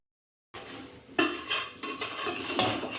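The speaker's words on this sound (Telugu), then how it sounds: "ఇప్పుడైతే ఈ చికెన్ ఇందులో వేసి కలుపుతూ ఉన్నాను" Chicken pieces being stirred into spiced oil in a metal pan for chicken pickle, with a ladle clattering and scraping against the pan in several loud, uneven strokes after a brief silence.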